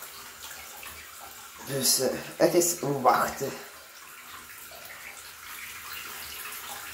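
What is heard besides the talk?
water running from a tap, filling a container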